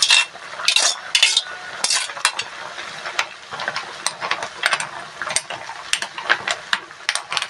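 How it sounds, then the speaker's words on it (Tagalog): A spoon stirs malunggay leaves into a simmering green shell and clam soup with papaya, making repeated clinks and scrapes against the pot over a soft bubbling sizzle, close and without talk. "Ihalo lang ang ating malunggay para maluto."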